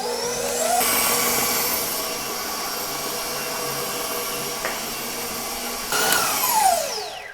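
Electric mixer beating a brown butter cookie dough mixture, a steady high motorized whir held for several seconds, then a brief speed change and a rising whine near the end, close and without talk.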